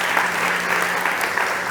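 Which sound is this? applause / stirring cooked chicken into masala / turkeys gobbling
applause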